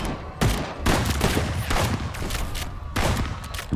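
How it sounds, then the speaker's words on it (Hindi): Rapid volley of gunfire from soldiers shooting wildly, a dense, loud burst of overlapping shots with sharp cracks repeating every half second or so over a continuous rumble. "उन्होंने बिना निशाना लगाए अंधाधुंध गोलियां चलानी शुरू कर दी"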